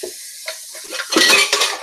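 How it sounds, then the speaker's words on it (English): Dishes clattering and clinking in a home kitchen sink while a chili meal is prepared, with short close knocks of pots and cutlery and bursts of splashing water, no voices. "I better get on a few dishes"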